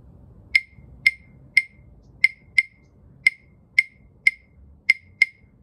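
A pair of darker-wood claves struck together ten times in a steady, slightly uneven rhythm, each hit a sharp, bright, close wooden click ringing briefly over a quiet background.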